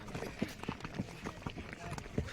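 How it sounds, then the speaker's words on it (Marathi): Horse descending a slope on a Mahabaleshwar trail, hooves clip-clopping in an uneven rhythm of several close, moderately loud strikes while people talk nearby. "हे खालती उतरू लागला घोडा."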